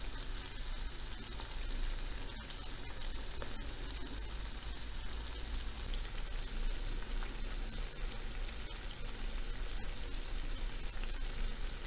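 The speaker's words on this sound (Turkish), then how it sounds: "Şimdi ocağa götürüp soğanlarımızı bir güzel soteleyeceğiz." Chopped onions sauté in oil in a pan on the stove for Turkish lentil köfte, giving a dense, even sizzle at close range that holds steady throughout with no voices.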